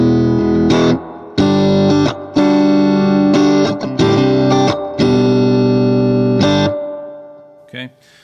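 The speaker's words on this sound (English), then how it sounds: "let's just put in some reverb" Electric guitar played through a Universal Audio UAfx reverb pedal: several sustained chords and notes ring out one after another, each leaving a washy reverberant tail, with a long fading decay at the end.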